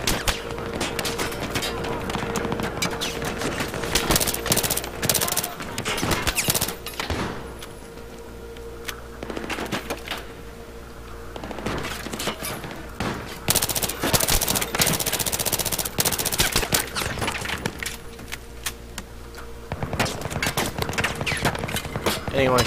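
Bursts of automatic gunfire and single shots in Battlefield 3 single-player combat, loud and repeated in rapid clusters across the stretch, with quieter gaps between volleys.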